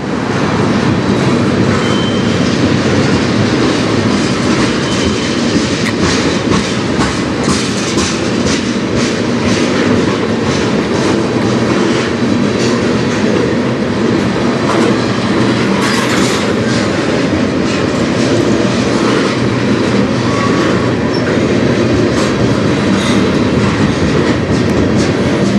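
A train on the Strathroy Subdivision rolls past, close and loud, in a continuous rumble with rhythmic clickety-clack of wheels over rail joints and occasional squeals, no talk.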